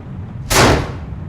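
A single sharp gunshot in the video game Heavy Rain, one loud close burst that cuts through a low background hum and fades quickly.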